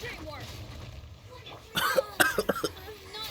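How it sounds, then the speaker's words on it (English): A person coughs several times in a short, sharp cluster of bursts near the microphone after some quieter sounds. "I know I'm coughing."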